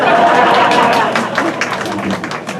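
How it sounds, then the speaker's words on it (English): Banquet audience at an alumni dinner clapping, a dense wash of many hands that starts full and tapers slightly, with crowd chatter mixed in. "Anyone who missed, clap their hands."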